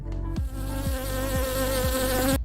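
Honeybees hum in flight with their wings beating, a close, steady, high-pitched drone that holds throughout and shows slight pulsing dips in pitch.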